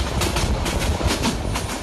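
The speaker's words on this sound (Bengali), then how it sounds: "ভাই আরেকটি ট্রেন আমাদের ক্রসিং করতেছে। এটাও ভাই আমাদের মতো, এটা মানে এক্সপ্রেস ট্রেন।" An express train in the video game Train Sim Bangladesh rolls past close by, its wheels clattering in a quick regular clickety-clack over a loud rumbling roar.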